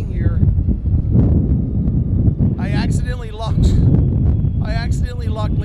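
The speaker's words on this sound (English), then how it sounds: "Wow, it's windy." Loud, gusty wind buffeting the microphone in a constant low rumble on Fremont Street in Las Vegas, with a person speaking over it.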